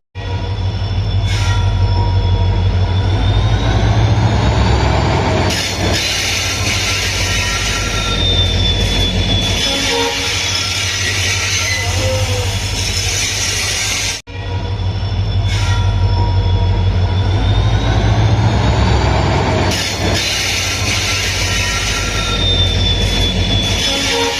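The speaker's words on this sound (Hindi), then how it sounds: "तो फाइनली ट्रेन आ गई है।" A train pulls into a station with a steady loud rumble and rolling wheels, high metallic wheel squeals rising over the din, lasting throughout with no voices.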